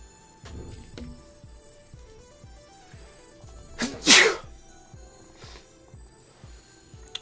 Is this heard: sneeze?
yes